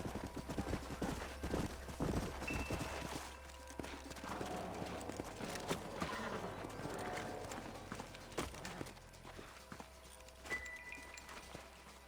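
Horse hooves clip-clopping in the western video game Red Dead Redemption, irregular thuds from several horses under faint game background noise, with scattered sharp impacts.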